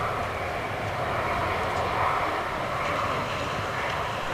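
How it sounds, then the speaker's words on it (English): A Freebird Airlines airliner coming in to land at Manchester Airport, a steady broadband jet roar that holds at an even level from start to finish, with no talking. "Freebird Airlines about to land"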